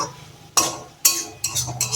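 Fried greens are scooped from a pan into a bowl: four sharp metal-on-metal scrapes and clinks of a utensil against the cookware, close and distinct, with quiet gaps between them.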